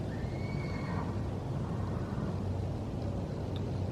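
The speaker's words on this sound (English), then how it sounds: "We have horses right behind us, so that's what you heard." A horse whinnies briefly near the start over steady outdoor garden background noise, fairly distant and faint against the ambient rumble.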